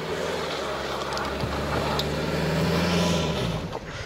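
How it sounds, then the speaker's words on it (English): Steady engine drone and heavy road and wind roar from a car cruising on a road trip toward Africa, with a rising, wavering engine note near the middle and no clear talking. "I love the noises this car makes."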